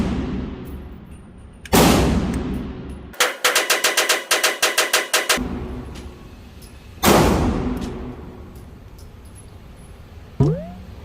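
Glock 43X pistol firing Winchester White Box 115 ammunition: two loud, sharp reports several seconds apart, each ringing out in a long echoing tail, with a rapid crackling string of sharper pops in between.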